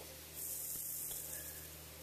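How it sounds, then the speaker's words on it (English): Lawn sprinklers spraying a fine mist outdoors, a steady soft hiss running through the whole stretch and swelling slightly partway in, fairly faint and without voices. "Love those sprinklers, love them"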